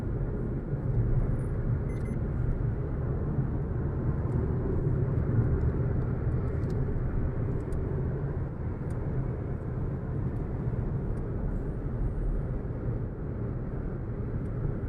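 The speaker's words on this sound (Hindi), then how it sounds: "तो भाई 80-85 की स्पीड पे इतनी कैबिन नॉइज आपको महसूस होती है" Cabin noise inside a Maruti Ignis cruising at about 80 km/h: a steady, continuous low road and engine rumble with faint wind hiss, even in level throughout and free of speech.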